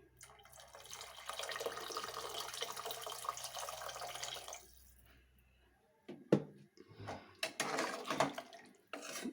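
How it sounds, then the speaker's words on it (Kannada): Water pours steadily into a pot of potato and chickpea sambar for several seconds, then stops, followed by a few clinks and scrapes of metal utensils. "ನಾನು ಇನ್ನೊಂದು ಸ್ವಲ್ಪ ನೀರು ಹಾಕ್ಕೊಳ್ತಿದ್ದೀನಿ"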